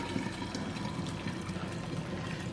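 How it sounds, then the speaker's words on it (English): Hot liquid from thermos jug cooking pours through a funnel into the jug, a steady close gurgling trickle with no break. "So I'm just going to pour until the solids come."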